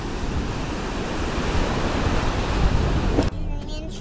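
Sea of Azov surf pounds the shore in a steady, loud wash of breaking waves, close by, with wind buffeting the microphone before the sound cuts off abruptly near the end.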